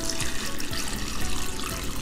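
Tap water pours steadily into a pot over pig feet for Russian kholodets, a loud continuous splashing rush filling the whole moment with no talk.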